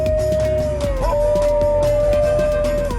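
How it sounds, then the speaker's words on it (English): A New Guinea singing dog lets out one sustained, wavering howl that bends and slides in pitch, close and loud, with no other sounds alongside. "These dogs are best known for their haunting and unique vocalization, which often sounds like a cross between a wolf's howl and a whale song"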